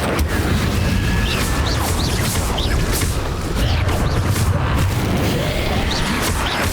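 Incendio fire spell cast repeatedly in Hogwarts Legacy on Switch, a series of loud whooshing bursts and booms over dense, noisy combat sound, continuous and close throughout.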